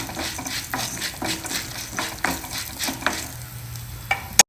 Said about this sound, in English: add some peeled and chopped ginger also to it and allow it to fry well